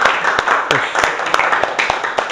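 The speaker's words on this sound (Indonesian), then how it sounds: "kita beri tepuk tangan yang luar biasa ya untuk kelompok 1 dan juga untuk penanya" A classroom audience claps for a student group after its presentation and questions in an Indonesian teacher-training session, producing a loose run of distinct, fairly loud hand claps that continue without a break.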